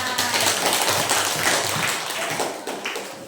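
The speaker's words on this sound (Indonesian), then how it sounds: "Tepuk tangan buat kelompok sungai" A classroom group claps together in a brief burst of dense, fairly loud applause, with sharp hand taps, fading slightly toward the end.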